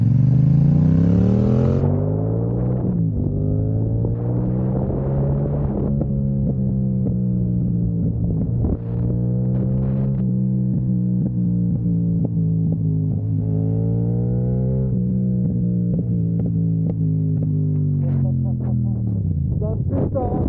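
An Akrapovic titanium-carbon exhaust with its baffle removed revs loudly and close for about twenty seconds, a thick continuous drone that swells and falls in pitch, with a brief crackle near the end.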